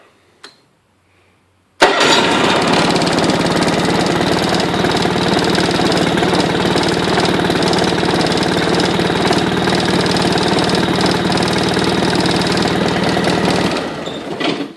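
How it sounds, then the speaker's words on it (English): A small Honda HT3813 lawn tractor engine, started completely cold without choke, cranks briefly, catches at once and settles into a steady, loud idle that runs unbroken until it is shut off near the end. "just starts right up, just like a brand new tractor"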